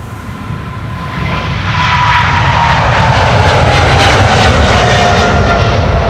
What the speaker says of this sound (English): KLM flight 735 to Willemstad, Curaçao, 777-300 PHBVI Bravo Victor India.